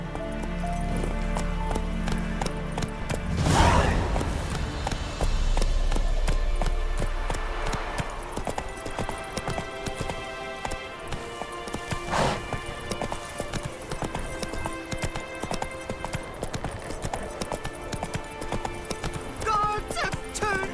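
Roach, Geralt's horse in The Witcher 3, gallops in a fast, steady run of hoof clip-clops with a brief whinny, under game music and voiced dialogue.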